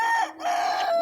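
A free-range rooster on a farm crows once, a loud, close, drawn-out call broken by a brief dip partway through.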